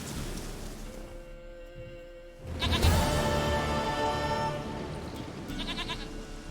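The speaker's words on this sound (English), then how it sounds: "Goat of mine, dearest, sweetest goat." Goat bleating in the Witcher 3 video game: a sharp, wavering bleat bursts out midway and trails on, followed by a shorter, fainter bleat near the end, over a quiet ambient background.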